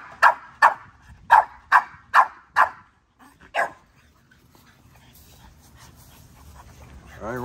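A pit bull-type dog barks in a quick series of six loud, close barks, then one more after a pause, followed by quieter panting and a faint whimper as feeding time approaches.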